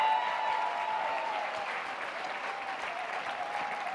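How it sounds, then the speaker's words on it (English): An audience applauds steadily after a guest is introduced at an interview event, a continuous, fairly even patter of clapping with a faint tonal hum underneath. "Give him a big round of applause."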